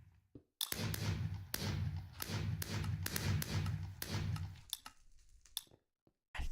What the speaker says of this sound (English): I don't know why the fireworks are loud.